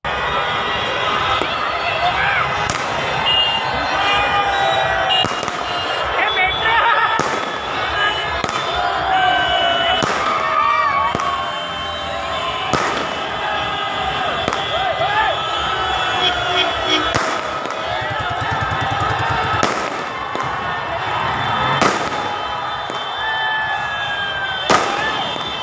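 Fireworks and firecrackers popping all over Nagpur streets as fans celebrate India's T20 World Cup win, repeated sharp cracks over a steady crowd roar with cheering and shouting voices throughout.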